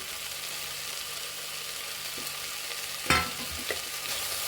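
Grated coconut frying in a pan for a Mangalore-style cucumber sambar, with a low continuous sizzle, one sharp clatter of a spoon or pan, and a quieter knock after it.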